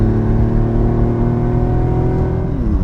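A 1974 Ferrari 246 GTS Dino's engine pulls hard through the gears on a winding road, a loud, close, steady rasping drone with rising harmonics that shift as it changes gear near the end.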